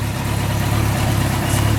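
A Yamaha FJ1100 motorcycle engine runs at a steady, close, loud idle with an even low throb and no voices.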